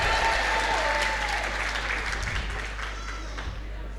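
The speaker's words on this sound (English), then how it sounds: "Everybody over this side, give me a huge round of applause." Applause from a live audience at a choir show, sustained and loud from the start, easing slightly toward the end with no talk over it.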